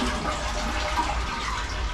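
Water rushes steadily from a toilet being drained during a bathroom demolition in a rental house, a close, continuous gurgling wash with no voices.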